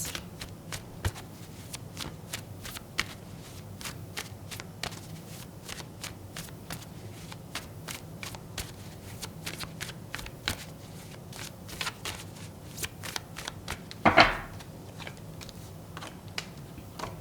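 A deck of tarot cards is shuffled by hand at close range in a quiet room: a long, steady run of soft riffling flicks and card snaps, with a sharper burst of handling about three-quarters of the way through.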